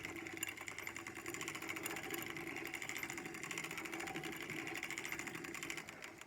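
A circular sock knitting machine with a 54-slot cylinder is cranked through a few rows of a lace ornament, giving a steady, close mechanical whirring with rapid ticking of needles that continues evenly throughout.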